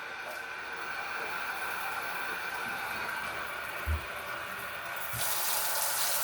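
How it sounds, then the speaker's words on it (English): Water runs steadily from the faucet of an under-sink ultra-filtration water purifier, a continuous hiss close by that swells louder near the end, with one brief thump partway through. "Here's the faucet."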